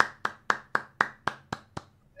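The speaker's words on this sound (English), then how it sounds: "round of applause" Eight evenly spaced hand claps in a slow, steady rhythm, close and crisp, with nothing else around them.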